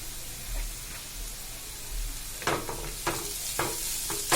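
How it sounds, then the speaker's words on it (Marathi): Onion and grated carrot sautéing in a little oil, a steady soft sizzle broken by several scraping stirs of a spoon in the pan from about midway, close and fairly quiet. "थोडंसं फक्त तेलामध्ये चांगलं मऊ करून घ्यायचंय."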